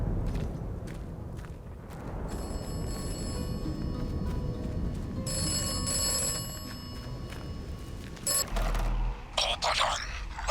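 A phone booth telephone in the video game Atomfall rings with sustained bright electronic tones over a low rumbling ambience, then cuts to a few sharp clattering knocks near the end.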